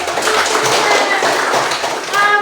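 Children in a classroom clap their hands together, a loud, dense burst of quick taps lasting a couple of seconds with a few voices mixed in.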